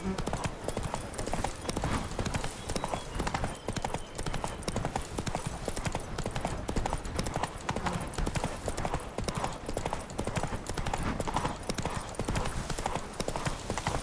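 Roach the horse trots in The Witcher 3, a steady, rapid clip-clop of hooves running throughout at an even pace over a dense bed of game sound.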